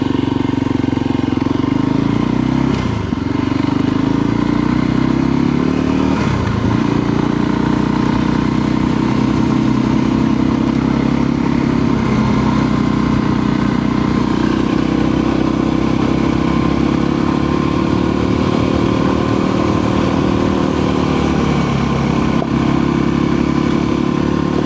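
A Voge 300 Rally motorcycle engine drones steadily while climbing a dry, shaly mountain track, with the pitch rising and falling as the throttle shifts, close and continuous throughout.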